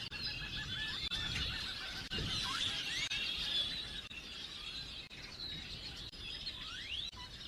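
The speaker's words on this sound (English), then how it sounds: "Let's turn those birds down." Birds chirp and tweet continuously near the Boca Chica, Texas launch site, a busy chorus of high calls with a soft low rumble beneath and no talk.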